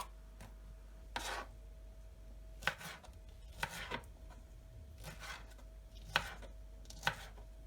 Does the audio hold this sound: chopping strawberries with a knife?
yes